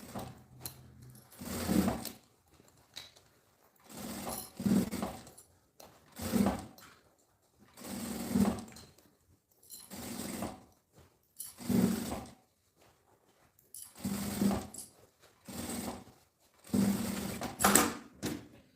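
A sewing machine stitches a seam around the lining of a women's backpack in about nine evenly spaced whirring bursts, each a second or so long with short pauses between, close and fairly loud.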